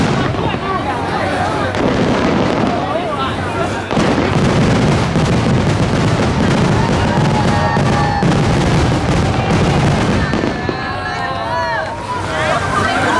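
Dense, continuous booming and crackling of a Disneyland fireworks grand finale, loud and relentless for the whole stretch, with crowd voices mixed in underneath.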